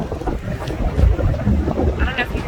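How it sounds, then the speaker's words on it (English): Strong wind gusts across the microphone on the Pacific coast, a loud, constant rushing roar with low buffeting, overlapping faint talk. "It's pretty windy, but this is the damn Pacific."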